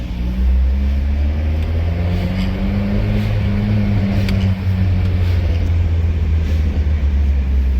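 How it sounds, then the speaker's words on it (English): Steady low engine rumble throughout with faint intermittent crackles and pops over it, loud and close, echoing slightly. "hear the little pops and gurgles when we get down inside and it echoes"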